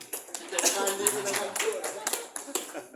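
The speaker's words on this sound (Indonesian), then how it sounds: "Tepuk tangan untuk Kak Ismandi." An audience applauds for Kak Ismandi, dense sustained clapping with someone speaking over it.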